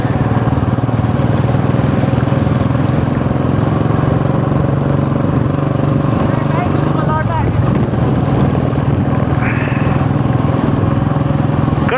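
A KTM Duke motorcycle on a road, its engine droning loud and continuous throughout, with a brief rising rev partway through.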